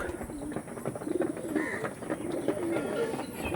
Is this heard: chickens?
no